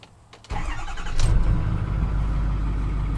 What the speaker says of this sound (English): So through that, we can start the truck.